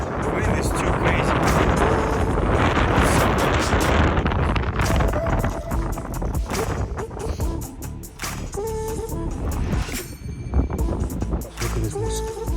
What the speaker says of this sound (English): Oh my god, this wind is insane. Crazy wind.